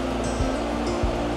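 High creek water rushing after heavy rain, a steady broadband roar close by with no voices over it.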